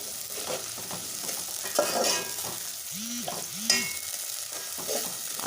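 Light-brown onions sizzle in a pan as ginger and green chilies are added, a soft steady fry with stirring scrapes and a couple of clinks.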